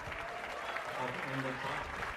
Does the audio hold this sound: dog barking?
no